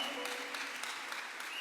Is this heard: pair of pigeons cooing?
no